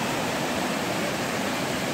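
A swollen river running high with dirty floodwater gives a steady, dense rushing roar that holds evenly throughout, close and loud, with no voices.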